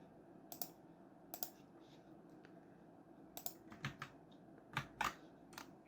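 Keys on a computer keyboard are typed in short, uneven bursts of close, light clicks separated by pauses, with a faint room hum underneath and no talking.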